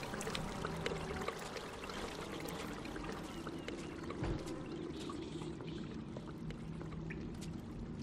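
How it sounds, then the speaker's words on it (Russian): Water gushes and pours steadily in Mafia 2, a continuous dense rushing stream with no voices over it. "Господи, ну и водища!"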